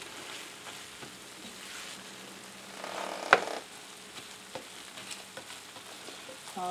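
Sausage stuffing mixture with breadcrumbs frying over low heat in a pan, a soft steady sizzle with occasional scraping stirs and one sharp clink, close and fairly quiet, no talking.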